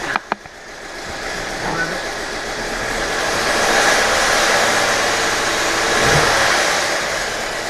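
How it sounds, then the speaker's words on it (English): A 2007 Audi A4 with a low-oil-pressure fault revs up, its engine swelling in two broad rising waves after a few sharp clicks at the start; loud, close and steady with no talking. "I'm gonna rev it a little bit."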